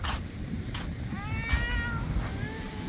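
A cat gives two or three short meows close by over a low rumbling background on a beach in Umm al Quwain, UAE, with a few soft clicks between them.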